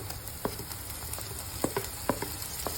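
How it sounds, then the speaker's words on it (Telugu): Onions, tomato and curry leaves fry in oil with a faint, steady sizzle, broken by a few sharp pops and spatters. "ఆయిల్లో ఆనియన్స్ ఎంత బాగా వేడితే అంత టేస్ట్ ఉంటుంది"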